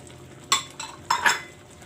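Pork lechon paksiw in soy sauce and vinegar stirred in a pot, a few separate scraping clinks of a utensil against the metal, close and fairly quiet.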